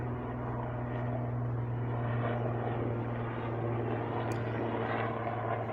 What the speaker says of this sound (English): Is that a military helicopter?